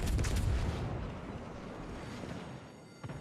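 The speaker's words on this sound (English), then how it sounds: "good torpedo hit" A torpedo strikes a ship in the naval combat game World of Warships: Legends, a heavy low booming explosion that swells at the start and rumbles away, followed by a smaller thud near the end.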